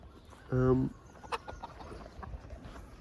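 A single loud, harmonic cluck from a nearby chicken, then quieter scattered clucks and faint bird sounds against outdoor background noise.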